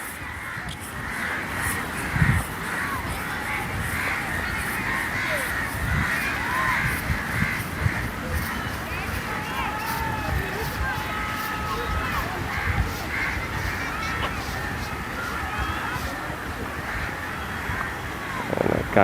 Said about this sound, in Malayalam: കാക്കകൾ പറക്കുന്നു